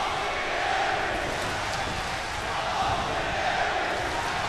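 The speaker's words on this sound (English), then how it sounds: "this capacity crowd here, definitely behind Austin Aries" A capacity arena crowd at a TNA wrestling pay-per-view roars steadily in support of Austin Aries, a dense continuous wash of cheering with commentators talking over it.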